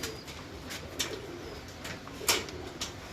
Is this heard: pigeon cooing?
yes